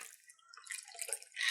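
A jasmine cocktail poured into a glass, a short, faint liquid trickle with light drip-like splashes that grows a bit louder toward the end, with no talking.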